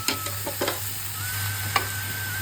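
Rice and lentils dry-frying in a pan for khichdi, a quiet sizzle with a few light scraping stirs and ticks over a steady low hum.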